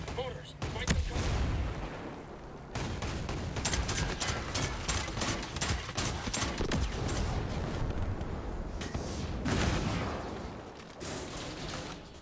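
Heavy mortar fire in the tactical shooter Ghost Recon Breakpoint, a dense run of booming blasts and gunfire crackle that lasts throughout, with a voice speaking over the din.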